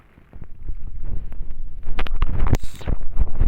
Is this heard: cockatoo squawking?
no